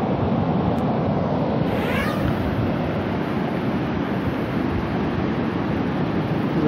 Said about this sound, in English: There's a little bit of wind here